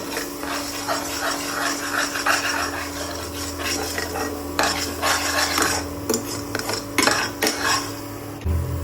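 Beaten egg is stirred and broken up in a pan while cooking idiyappam, with continuous scraping and clinking of a utensil against the pan over a soft sizzle.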